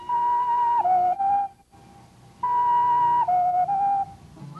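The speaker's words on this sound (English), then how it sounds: "Last year's visitors were treated to classical whistling," Classical whistling by a record-setting whistler: clear, loud melodic phrases with sliding pitch steps, a brief pause, then another phrase, alone with no talk.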